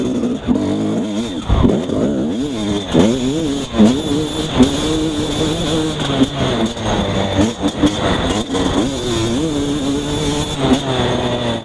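A dirt bike fitted with a Keihin 38 carburetor on a riding test, its engine revving hard and climbing quickly in pitch, loud and continuous with repeated rising and falling surges throughout.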